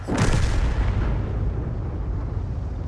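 In a tank video game, a tank gun fires and hits a T-34-85, giving one loud heavy boom at the start that rolls off into a long low rumbling decay, with no voices.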